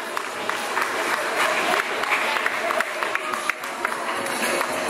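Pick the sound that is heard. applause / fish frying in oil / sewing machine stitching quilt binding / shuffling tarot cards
applause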